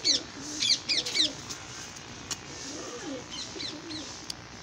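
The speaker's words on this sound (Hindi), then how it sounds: "लो दोस्तों यह गोल्डन कबूतर लगा है इन्हें ना।" Golden pigeons in a loft give soft, rolling coos, several low murmured phrases spread through the stretch, with a few sharper higher chirps from nearby birds at the start and end.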